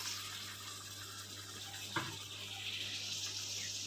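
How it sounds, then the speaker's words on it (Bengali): Hot water pours steadily into a cooking pot while paneer sundari curry cooks, a faint soft trickling wash over a low kitchen hum. "জলটা আমি পরিমাণ মতন দিয়ে নিচ্ছি গরম জলটা"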